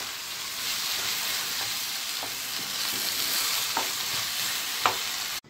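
Shawarma meat sizzles and fries in a pan with a constant loud hiss, punctuated by occasional scraping clicks of stirring, close and with no talk.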